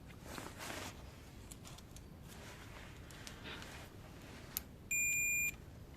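A multimeter in continuity buzzer mode gives one short, sharp beep while probing the pins of an AO3400 SMD N-channel MOSFET, heard alone over quiet room hiss.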